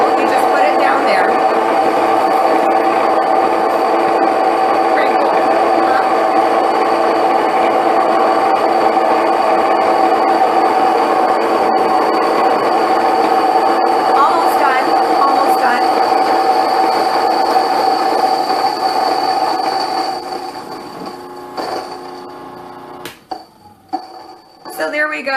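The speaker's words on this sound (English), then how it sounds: "Flip it on, you got it, and you just pour these into the flour, and it's gonna grind it." Electric grain mill grinding wheat into flour at home, a loud, steady mechanical whine and roar that runs throughout with a spoken voice over it, then tapers near the end into scattered clatter.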